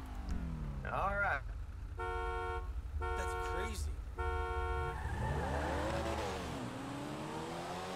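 A car horn honks in several short, loud blasts in a row over a running engine, and voices are heard around them, followed by an engine revving as the car pulls away.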